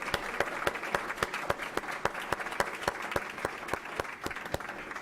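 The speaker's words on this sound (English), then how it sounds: "let's give all of our retirees another round of applause" Audience applause honoring retirees at a school board meeting, sustained clapping from a mid-sized room with a few sharp, distinct close claps standing out regularly above the crowd, no speech.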